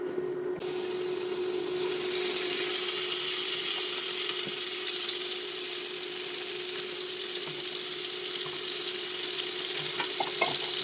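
Cauliflower and a dried chili sizzle and fry in a pan, a steady close crackle running throughout with occasional stirring scrapes.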